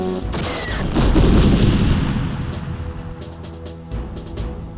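Heavy explosive weapon fire in GoldenEye 64, a loud close boom that swells and then rolls off into a long fading rumble, with no voices present.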